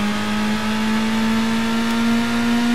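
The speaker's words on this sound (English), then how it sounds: "Pretty good revving, actually." A car engine in the Gran Turismo racing game is held high toward 7,500 RPM, giving a loud, sustained, buzzy drone whose pitch creeps slowly upward throughout, with no talking.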